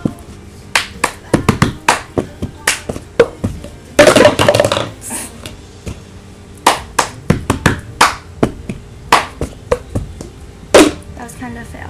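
Hands clapping and a plastic cup tapped, flipped and slapped on a table in a quick cup song rhythm, sharp percussive hits in a repeating pattern with a brief stumble midway.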